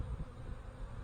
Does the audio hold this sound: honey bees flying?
yes